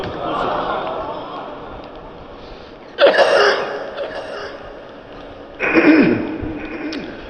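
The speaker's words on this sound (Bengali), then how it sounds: "আজকে একটু কাশি বেশি হইতেছে" A man coughs twice during a sermon, two short harsh bursts about three seconds apart, each standing out over a low, steady background hum.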